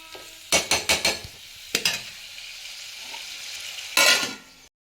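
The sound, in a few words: mutton frying in oil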